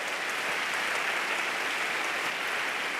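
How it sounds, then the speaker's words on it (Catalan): An audience applauds a winning young-adult novelist at a literary prize ceremony in Girona, with continuous, thick clapping that stays at one level from start to finish. "Un fort aplaudiment, sisplau,"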